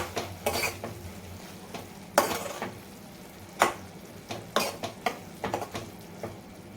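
Sprouted moong curry being stirred in a pot after coriander is added, with irregular spoon scrapes and clinks against the pan over a soft background sizzle, close and fairly quiet, no talk.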